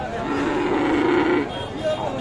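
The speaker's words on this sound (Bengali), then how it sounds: "এটা হচ্ছে একটা ক্রস ফ্রিজিয়ান সার বাছুর" A cross Friesian bull calf moos in a long, loud, low bellow that fades toward the end, with some background noise around it.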